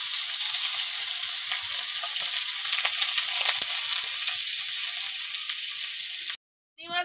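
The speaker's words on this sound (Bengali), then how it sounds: "আর আমি হচ্ছে চিংড়ি মাছ লবণ আর হলুদ দিয়ে চিংড়ি মাছগুলো ভালো করে ভেজে নেব।" Prawns fry in hot oil with salt and turmeric, a continuous bright sizzle with faint crackles and occasional stirring clicks, close and steady, breaking off abruptly near the end.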